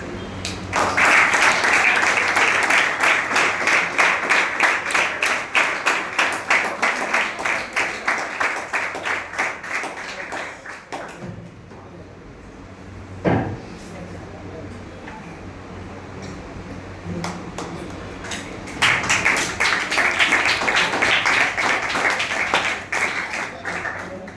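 An audience at a yoga session bursts into loud, sustained clapping, which fades into a quieter stretch with a single knock and low murmurs, then swells into another round of strong applause.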